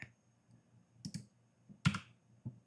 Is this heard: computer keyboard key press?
yes